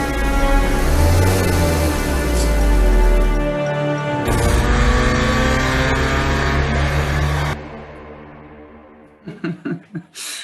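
Racing cars roar loudly and continuously on a track, engines revving hard and steady before fading, followed by a few short bursts near the end.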